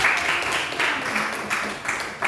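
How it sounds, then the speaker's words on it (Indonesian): Applause from a classroom audience during a teaching session, a dense, steady patter of clapping with a few louder swells, close by and lasting throughout. "Ya, berikan aplaus dulu."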